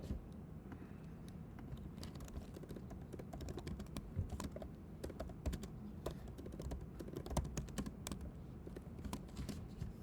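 Code typed on a computer keyboard, a quiet, steady stream of rapid key clicks with irregular bursts and pauses, faint and without voices.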